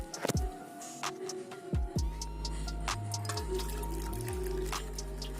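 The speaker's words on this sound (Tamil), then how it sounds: "குக்கரில் மிச்சமான தண்ணியை ஒரு பவுலுக்கு ட்ரான்ஸ்ஃபர் பண்ணிடலாம்." Leftover water from a pressure cooker, used to cook banana stem, is poured into a bowl, giving a few splashy drips and a short steady trickle with small clinks in a quiet kitchen.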